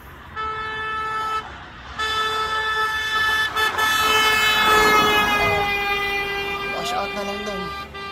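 A vehicle horn honks in long sustained blasts with brief gaps, loud over steady street traffic noise on the LA Viaduct bridge in Los Angeles.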